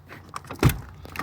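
The door of an old Mercedes V8 diesel truck is opened, giving a handle click and one solid metallic clunk with faint rattles around it, close and fairly loud.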